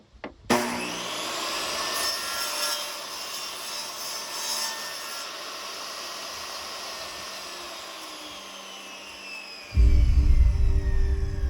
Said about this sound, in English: The next step is to take this to a table saw and hack off the excess wood